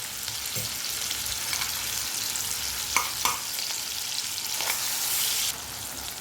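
Onions frying in a pan with tomato, curry leaves, coriander, ginger-garlic paste and spices, a loud continuous hissing sizzle with a couple of brief stirring clatters, no talk.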